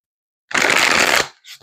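A tarot card deck is shuffled once in a short, dense riffle burst lasting under a second, close to the microphone, followed by a faint soft rustle as the cards settle, with no talking.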